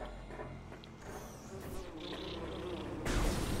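Buzzing bee-like bug monsters swarm in the video game Metroid Prime Remastered, a shifting insect drone with whirring sweeps and a louder burst near the end, no talking.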